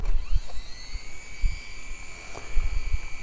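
A small camera drone's motors arming and spinning up with a high steady whine and rhythmic low pulsing, close by and alone.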